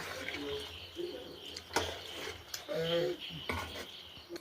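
A spoon stirs chicken curry in a home-kitchen pot after coriander leaves and pepper powder go in, giving a few soft, sparse metallic clinks and scrapes, quiet, with a brief voice between them.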